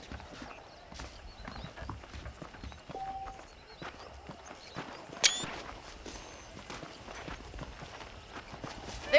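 Horse hooves clip-clop at a walking pace in Red Dead Redemption, a quiet irregular patter under faint ambient game sound.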